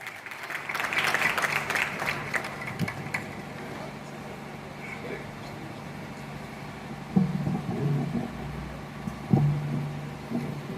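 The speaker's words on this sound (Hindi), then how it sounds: "ओज की धारा को लेकर के एक बार जोरदार तालियों से आप आवाज दें।" Audience applause at a Hindi poetry gathering (kavi sammelan) held for Martyrs' Day, a diffuse clapping swell early on that fades into a steady hum with a few later bumps, fairly distant and moderately loud.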